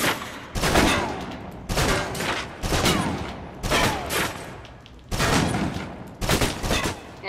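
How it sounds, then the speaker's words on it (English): A submachine gun in the video game Alpha Protocol fires in rapid bursts until the clip is empty, about six dense, loud volleys with brief gaps between them. "Now, let's move on to the submachine gun. Now let's empty the clip."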